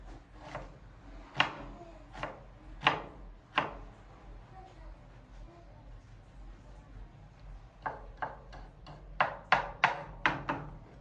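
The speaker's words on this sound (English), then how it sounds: "Now you're going to chop your onion into tiny pieces" A big onion chopped into tiny pieces with a knife on a board for chicken stew: a few spaced, sharp chops, then a quicker run of crisp strikes near the end.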